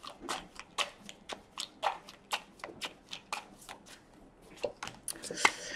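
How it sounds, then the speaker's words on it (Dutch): Tarot cards being shuffled by hand, a series of crisp riffling flicks and soft slaps in an uneven rhythm, close and fairly quiet, with no talking. "Dan de kaarten schudden bekijken wat deze week voor de ram gaat brengen."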